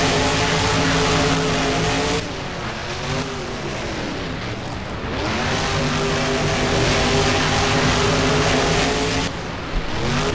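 Monster truck engines roar in a BeamNG racing game as El Toro Loco and the Liberator head into the final turn, loud continuous revving with pitch rising and falling through gear changes, close and unbroken.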